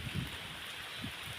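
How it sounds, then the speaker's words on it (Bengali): Heavy rain falls with a continuous soft hiss, steady and fairly faint, with no voices. "ভালো বৃষ্টি নামছে।"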